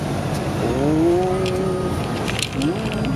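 A $100 supercharged project car engine drones and revs while driving, heard from inside the car with a rising whine and shifting pitch as it accelerates, while people talk over it.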